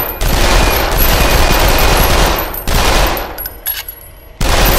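Submachine gun fire in the VR shooter Lethal VR, with dense sustained bursts of rapid shots, a brief pause with scattered clatter, then firing resumes loudly.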